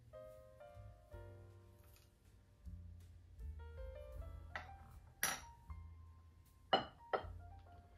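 Spoonfuls of dried tea ingredients, including rose and beetroot, clink faintly into a cup. Several light, scattered metallic and glassy taps sound in a quiet room.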